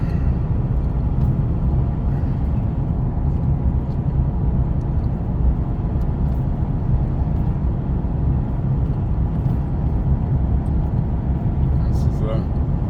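A car driving along a road on a long trip, heard as a steady, deep rumble and road roar from inside the cabin, unbroken throughout, with a voice now and then.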